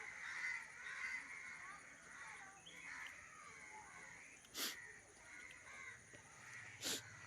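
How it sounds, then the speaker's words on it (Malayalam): Crows caw in the evening after rain: a few distinct caws ring out at a moderate distance over faint ambient hiss and low murmuring background sound. "കാക്കകളൊക്കെ ഇങ്ങനെ പോകുന്നത്"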